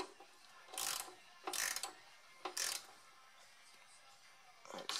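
A ratchet snugs up 14 mm bolts on custom engine mounts for a 4G63 engine swap in an AWD Mini Cooper, in four short bursts of rapid clicking with quiet gaps between them.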